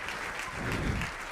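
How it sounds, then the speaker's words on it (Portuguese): A worship congregation applauding during an evening sermon, a short, loud, dense burst of many hands clapping in a reverberant hall, continuous and without speech. "Você pode aplaudir o Todo-Poderoso."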